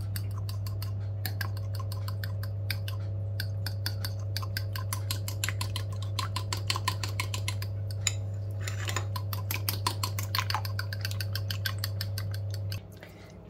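A spoon stirring courgette nugget mixture with turmeric in a bowl, a steady stream of quick rhythmic clinks and scrapes over a constant low hum, close and clear, ending abruptly.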